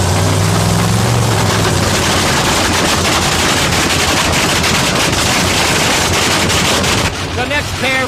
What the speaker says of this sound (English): Header flames shoot over the roof of the car. The car starts to accelerate.